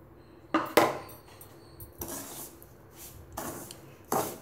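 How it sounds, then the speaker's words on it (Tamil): Powdered sugar is mixed into roasted semolina in a pan for rava laddu, with several loud, close scraping and rubbing strokes of a spoon against the metal, spaced by quieter gritty stirring. "இப்போ இந்த ஸ்டேஜில் நம்ம இந்த பொடி பண்ண சர்க்கரையை நம்ம மிக்ஸ் பண்ணிக்கலாம்."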